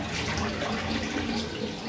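A tap runs cold water for a rinse after a wet shave with a double-edge safety razor, giving a steady, close, full splashing rush that stays even throughout.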